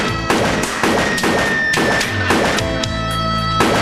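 Gunshots fired at close range in a staged crime reenactment in São José dos Campos: a rapid, uneven series of about nine sharp, booming bangs, each with a short decaying tail, and no voices.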